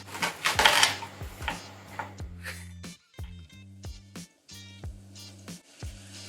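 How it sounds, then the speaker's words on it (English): An onion is chopped with a knife on a board while making a cream sauce, a series of sharp irregular knocks and taps, fairly close, with clattering at the start and a low hum underneath. "chopping the onion."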